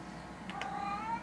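A pet cat meows once indoors, a short rising then falling cry heard close by over a low background hum.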